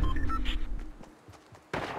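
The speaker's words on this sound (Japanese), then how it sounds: "銃声の音。" Sharp bursts of gunfire crack among other Fortnite game sounds, with a loud rumbling blast returning near the end.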